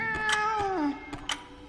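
A cat meows in a cyberpunk ghost-story video game, one drawn-out falling meow followed by a short chirp, fairly close against a quiet background.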